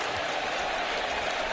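Texas A&M's 12th Man crowd roaring and applauding in a football stadium, a dense, constant wash of cheering and clapping from a huge crowd, with no speech standing out.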